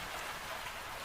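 Rain falls steadily, making a dense, even hiss of drops on a surface. It is soft and continuous throughout with no voices.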